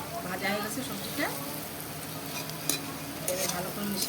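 Egg and vegetables sizzle in a pan for chowmein while being stirred, a continuous moderate frying crackle with scraping strokes, under a voice speaking.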